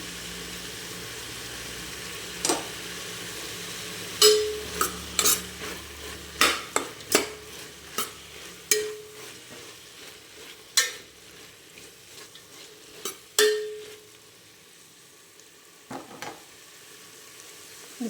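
Ginger garlic paste fries in a pan for a pulao with a low, steady sizzle, punctuated by a dozen or so sharp spoon taps and scrapes against the metal as it is stirred.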